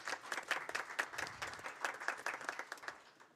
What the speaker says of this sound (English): let's give them another rousing round of applause